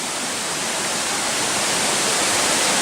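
Rushing waterfall on the Rota das Cachoeiras trail in Corupá, Santa Catarina, a dense, steady roar of falling water filling the whole clip, loud and close with no voices.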